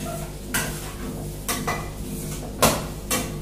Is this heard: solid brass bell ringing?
no